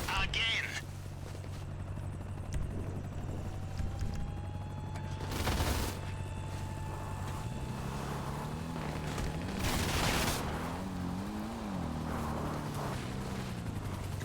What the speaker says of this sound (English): helicopter again